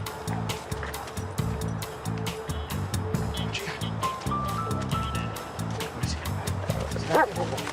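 A search and rescue tracking dog barks in rapid, repeated bursts with a few yips close by at a scene where a handgun was found, while people talk around it.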